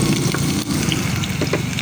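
Plenty of garlic frying in cooking oil for a stir-fry of water spinach with sardines; a loud, steady close-up sizzle runs throughout with a few light clinks, and no one speaks.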